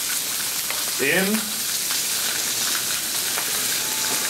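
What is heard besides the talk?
salt pork frying on a Blackstone griddle top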